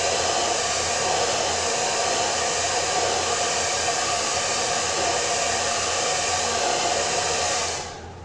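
A hair dryer blows steadily to dry Stabilo ink on a mixed media art card, a loud, even whoosh held for several seconds before it switches off and winds down at the end.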